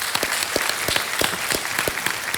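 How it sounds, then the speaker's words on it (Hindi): Studio audience applause on a televised Hindi quiz show, Kaun Banega Crorepati, a steady loud burst of many hands clapping with sharp individual claps standing out, filling the room without talk. "ताली बज जाए इनके लिए।"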